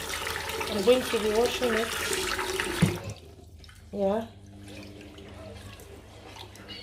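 Rice being rinsed with water at a sink, running and splashing water close by for the first three seconds, then quieter with brief trickles, while a person speaks.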